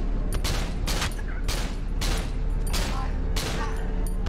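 Rapid gunshots in the survival horror game Cry of Fear, about eight loud sharp blasts fired in a quick uneven volley, close and punchy against a droning background.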